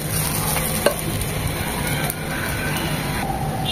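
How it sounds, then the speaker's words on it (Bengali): Rice and ginger paste fry in a pan with a steady, close crackling sizzle, broken by a few sharp clicks of stirring, and no talk over it. "তখনই বুঝতে হবে আমাদের চালটা ভাজা হয়ে গিয়েছে, ঝরঝরে হয়ে যাবে আর এরকম মচমচ শব্দ হবে।"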